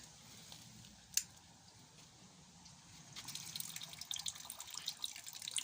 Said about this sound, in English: There's a water feature there